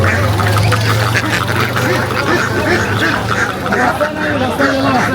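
Ducks quack repeatedly at a busy duck market in Bangladesh, mixed with loud nearby talk and crowd chatter.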